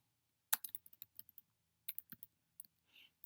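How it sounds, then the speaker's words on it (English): Fingers tap a computer keyboard in short irregular bursts of crisp clicks, close and alone in a quiet room, with a brief pause midway before a few more keystrokes. "And then I went and started typing them in."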